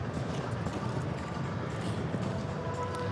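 Horse hooves clip-clopping in an outdoor show jumping arena at a 1.40 m international event, a steady run of soft hoofbeats over a busy, noisy background.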